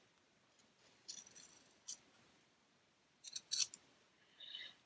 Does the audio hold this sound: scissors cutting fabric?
yes